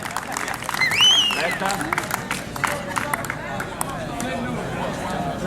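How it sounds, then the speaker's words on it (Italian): Applause and cheering from a crowd at a local football awards event honoring a promising young player, with clapping and babble filling the room and voices talking over it. "Un applauso per Checco, giocatore del Lanus del Calcio"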